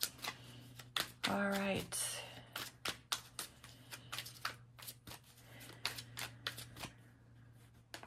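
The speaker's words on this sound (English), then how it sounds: "let's grab a Angel Answers card for you" A deck of Angel Answers oracle cards is shuffled in quick riffling, flicking bursts right up close, with one longer riffle early on and a steady run of short slaps afterward; a person speaks briefly over the start.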